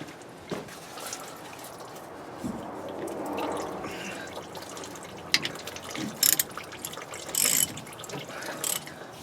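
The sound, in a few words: tool loosening fuel filter on Dodge 3500 Cummins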